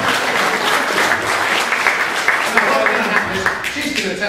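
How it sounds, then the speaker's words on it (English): A live audience applauds at a shaving cream demonstration, the dense steady clapping filling the whole stretch at full loudness without a break. "Big round of applause, ladies and gentlemen."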